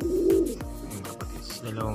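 A newly hatched pigeon chick gives soft, repeated cooing and squeaking calls close by. The calls continue steadily with no talking.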